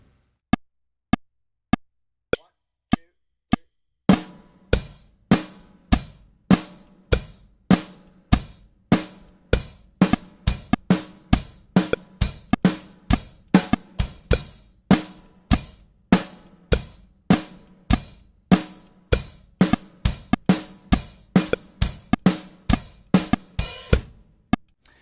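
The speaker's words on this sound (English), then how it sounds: "I'm going to play a quarter note groove for 2 bars instead of the 8th note groove for 2 bars" Drum kit ride pattern with crisp, evenly spaced strokes. It starts as a sparse quarter-note pulse, then shifts into a dense, steady stream of rapid 16th-note hits backed by low drum thumps. The kit is played close and alone.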